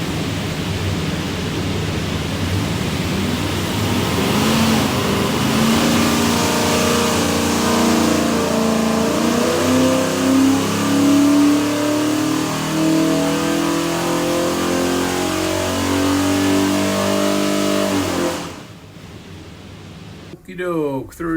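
A 383 small-block Chevrolet V8 stroker with a custom hydraulic roller cam runs on a dyno, bound for a 1946 Chevy pickup: a loud, steady pull that rises in pitch through the run, then cuts off sharply near the end.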